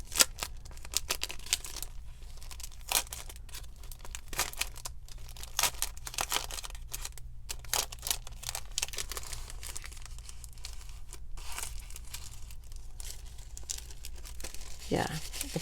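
Delicate decoupage paper being unwrapped and handled, giving repeated crisp crinkles and rustles in short bursts over a quiet room background, close to the listener.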